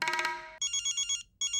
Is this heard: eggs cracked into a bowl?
no